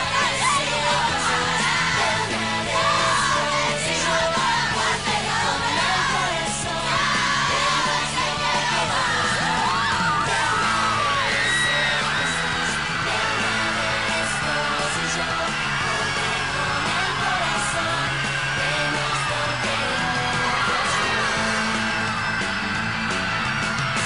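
A large crowd yells, whoops and cheers before a Casi Ángeles stage show at the Gran Rex theatre in 2010, a dense, loud and continuous roar with scattered shouts over the whole stretch.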